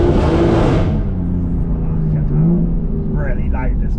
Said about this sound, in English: Really loud, this car. When the valves are open, it's really loud.